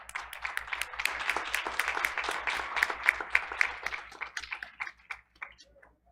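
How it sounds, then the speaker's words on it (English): An audience at a Board of Education meeting claps for an honoree, a dense round of applause that builds, holds for several seconds and then thins out to scattered claps. "Please give her another round of applause."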